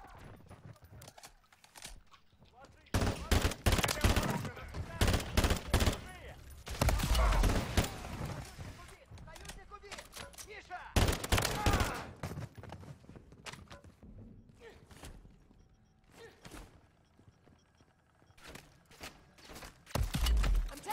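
Gunfire in the video game MW3 Zombies, heavy bursts of rapid shots and loud impacts coming in uneven waves, mixed with shuffling movement and people talking over the action.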